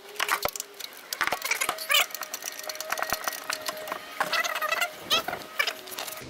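Ratcheting clicks and metallic clatter from a long extension with a wobbly socket loosening a starter motor bolt on a 2003 Ford Ranger, a close burst of irregular clicks and knocks with no talking.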